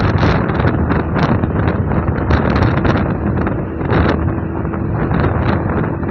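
Strong, steady wind roar buffets the microphone while riding a Hero Super Splendor 125 motorcycle on a long ride, a dense rushing noise throughout with faint engine hum underneath.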